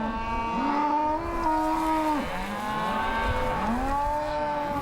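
Cattle being driven down a road moo in overlapping drawn-out calls, several loud, close voices sliding up and down in pitch one after another with no talk.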